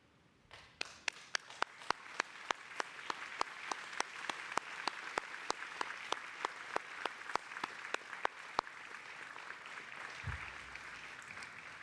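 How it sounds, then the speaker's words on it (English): A crowd applauding at a university graduation ceremony, its clapping settling into a steady, evenly spaced rhythm that carries on for several seconds. "give them a big round of applause"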